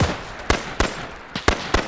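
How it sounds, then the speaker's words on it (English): A grenade blast in a WW2 shooter video game, heard among several sharp, loud bangs spaced unevenly about a third of a second apart across the short stretch, with a brief crack and decay on each and no talking. "Grenade thrown up to the doorway."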